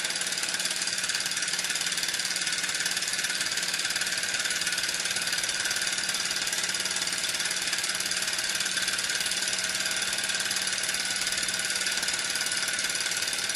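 A steady, loud hiss of steam escapes from the exhaust port of a Cyldon 13 steam engine with a worn piston, running at a 2012 steam show. The hiss is continuous, dense and close, with a faint mechanical rumble beneath and no voices.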